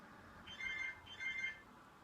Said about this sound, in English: why is my phone going off?